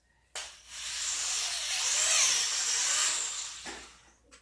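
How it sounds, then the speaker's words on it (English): A hand drill bores into plastic hula hoop tubing, a single sustained high-pitched whirring grind lasting about three seconds, starting and stopping sharply, close and fairly loud. "you can specifically feel the drill bit as it goes into the tubing"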